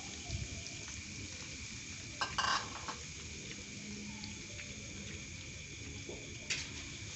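Blended garlic and lime leaves hit hot oil for Indonesian dry tempe orek, giving a steady, moderate sizzle with a couple of brief clatters of a utensil against the pan.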